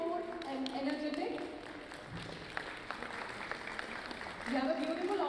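Audience applause greeting a guest introduced as a director of an entertainment company at a live televised gathering, a steady wash of clapping heard at moderate distance, with a voice speaking over it near the end.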